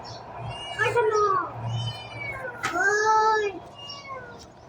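A pet cat meows twice nearby, each meow a clear, rising-and-falling call, with quiet room noise between them.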